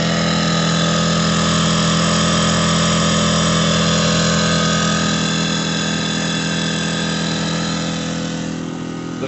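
A portable generator powering a portable air conditioner in a van drones loudly and steadily, with a fan blowing on it, a constant engine hum with no breaks and no talk.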